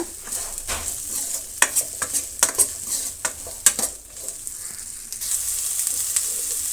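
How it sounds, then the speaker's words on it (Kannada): Chopped onions and crushed garlic frying in a pan, a steady sizzle with a burst of sharp spatula clinks and scrapes in the middle, then a smoother hiss, no talking. "ಇಷ್ಟನ್ನು ನಾವು ಫ್ರೈ ಮಾಡೋಣ."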